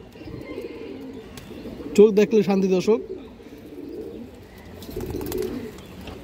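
A male China Khaki pigeon with black beak and fiery eyes gives a burst of rhythmic cooing near the middle, close and clear, with a voice talking over soft room sound before and after.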